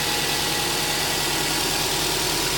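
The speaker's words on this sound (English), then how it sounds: "as it comes up to temperature, you can hear the engine speed starting to go down" A Subaru EJ20Y 2-liter twin-scroll turbo boxer engine with dual AVCS, freshly swapped into a 2005 Outback, idles steadily with a continuous rumbling drone and slight knocking texture, close and loud throughout.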